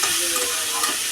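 Water spinach (kalmi shak), already seasoned with salt and turmeric, is stirred in a hot frying pan, giving a loud, close, hissing sizzle with soft scraping from the stirring.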